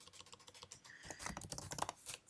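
Quick tapping on a computer keyboard, a steady run of soft, close key clicks that grows a little denser toward the end, with no talking.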